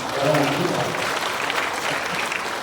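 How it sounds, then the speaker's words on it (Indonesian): Congregation at a Catholic Christmas and New Year Mass of the Dayak Kantu' community in Pontianak, West Kalimantan, applauding steadily, with a voice talking over the clapping near the start. "Tepuk tangan untuk orang kita."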